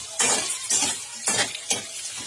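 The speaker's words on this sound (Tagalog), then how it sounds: "nagluluto kami ng hipon" Shrimp being cooked in a pan, heard as four bursts of loud, close sizzling and stirring scrapes in an uneven rhythm.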